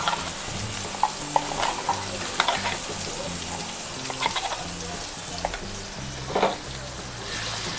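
Stuffed tinda (round gourd) coated in masala being stirred as it fries in oil, a steady close sizzle broken by scraping stir strokes and occasional clinks against the pan, with no talking.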